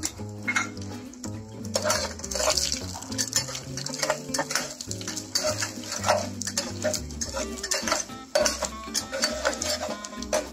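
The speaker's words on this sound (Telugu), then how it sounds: "పోపు వేగిపోయింది" Spice tempering sizzles in hot oil in a pan for a Telugu kandi pappu and gongura dish, with a metal spoon clinking and scraping against the pan as it is stirred, steady and close throughout.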